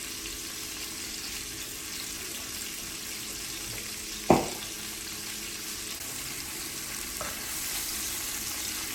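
Chicken breast browning in a frying pan, a steady close, loud sizzle that fills the whole stretch, broken once by a sharp utensil clank, with no talking.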